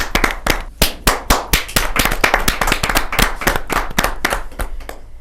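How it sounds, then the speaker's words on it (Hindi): An audience at a kavi sammelan (Hindi poetry gathering) bursts into loud, close applause for a poet, with sharp individual claps standing out through a dense, steady patter that carries on without any talking. "जोरदार ताली के साथ"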